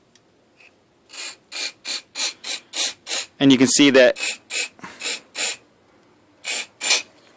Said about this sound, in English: we're going to force carburetor cleaner through it